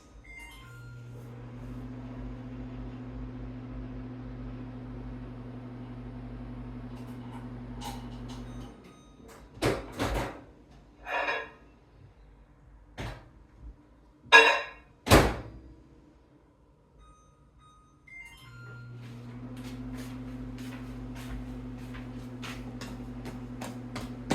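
A microwave oven hums steadily while melting butter for 20 seconds, stops with a few clicks and door thunks, then starts humming again.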